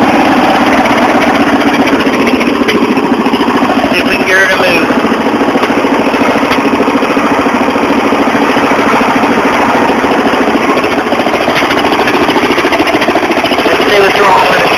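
A lawn mower engine runs continuously in mud, a loud, steady, close drone with rough vibration throughout and no pauses.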